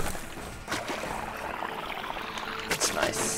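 Water flowing in the mining video game SteamWorld Dig, a steady rushing wash under the game's other sounds, with a couple of louder splashy bursts near the end.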